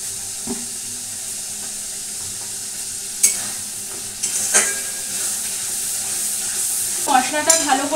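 Mutton masala sizzles in oil in a pan while being stirred, a steady close frying hiss with occasional scraping strokes that get busier near the end.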